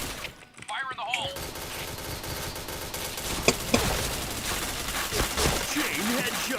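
Gunfire in a shooter video game, with repeated sharp shots and bursts amid game clutter, while a voice talks briefly near the start.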